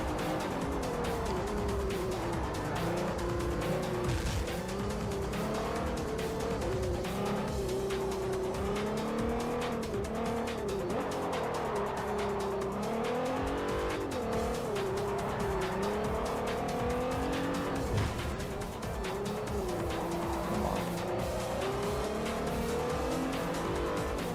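Race cars in Forza Motorsport 4, engines roaring continuously with rising and falling revs and tires squealing through corners, loud and dense for the whole stretch with no talking.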